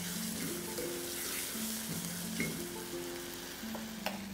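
Spices and meatballs sautéing for meatball and potato soup, a steady broadband sizzle with stirring scrapes and a soft clink, continuous and close throughout.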